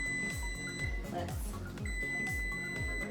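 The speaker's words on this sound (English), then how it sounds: "turn off our timer and get them out and check it out" A kitchen timer beeps in a repeating alarm pattern while cinnamon crinkle cake box cookies finish baking, with short bursts of tones, a brief pause, then beeping again amid faint kitchen noise.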